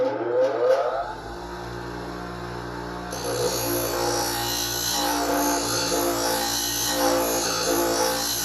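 A Twice As Sharp scissor sharpening machine hums steadily and loudly close by, a constant motor whir that begins partway in and keeps running without a break, with no talking.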